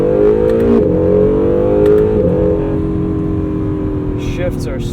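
A 2017 Acura NSX engine pulls hard under acceleration, its loud, steady tone changing briefly at quick gear shifts, with a few faint clicks near the end.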